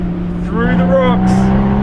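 A Porsche Boxster Spyder engine drones loud and steady on a mountain pass among huge rocks, with a voice humming or speaking over it.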